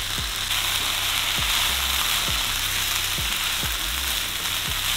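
Frozen peas frying in sesame seed oil with soy sauce, giving a loud, steady close-up sizzle with regular low scraping knocks of stirring every second or so.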